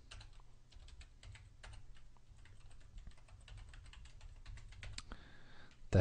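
Rapid typing on a computer keyboard, a steady stream of close, fairly faint key clicks running through most of the stretch, ending with a brief different tone.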